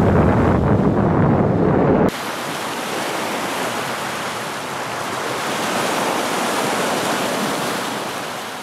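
Steady outdoor wind buffets a vlogging microphone fitted with a windshield, a broad, continuous rushing noise that shifts abruptly in tone early on, then holds fairly loud and even with no speech.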